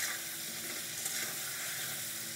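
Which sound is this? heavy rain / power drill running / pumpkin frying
pumpkin frying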